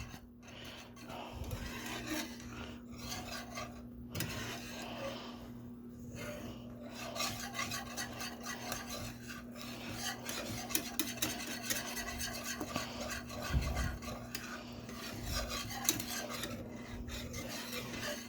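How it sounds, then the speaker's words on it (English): Bacon breakfast gravy stirred in a pan over low heat, a steady close scraping and rubbing of utensil against the pan, continuous and even under a constant low hum, with no voice. "I'm still stirring a little bit though"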